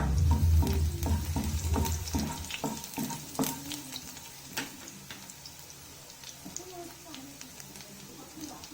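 Chopped garlic, about a spoonful, hits two spoons of hot oil in a pan for egg rice, sizzling loudly at first with stirring scrapes and clicks, then settling into a softer steady fry as a voice talks over it.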